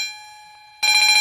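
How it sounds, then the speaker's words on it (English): An electric bell summoning members to India's parliament rings out: a faint lingering tone, then a sudden loud, sustained metallic ringing close by. "as you can hear that the bell's going, so the parliament is about to begin"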